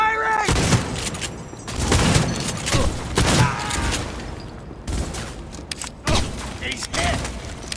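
Gunfire and impacts in the Cyberpunk 2077 video game, loud bursts of shots and thuds in irregular clusters, with voices speaking over the combat.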